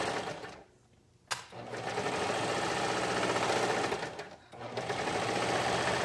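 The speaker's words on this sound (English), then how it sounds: "now we're sewing down the other leg" A sewing machine stitches down a trouser inseam, running in loud continuous bursts with a short pause near the start and a brief stop around four seconds before resuming.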